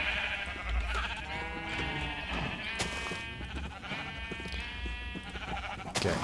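Sheep in Minecraft bleating repeatedly in a crowded pen, several overlapping calls close by over a steady game background.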